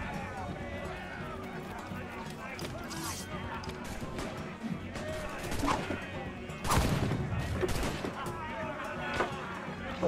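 Ship cannons fire in the naval combat of the video game Assassin's Creed IV: Black Flag, with scattered booms and a louder blast cluster midway, heard under game ambience and a player's voice.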